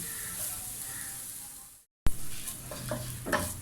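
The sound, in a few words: stirring and roasting coconut in a pan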